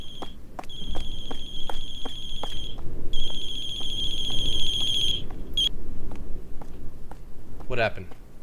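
A phone rings repeatedly in the video game Closing Shift, a loud electronic ringtone in short bursts that stops and starts again over a steady background hum, with a brief rising chirp near the end.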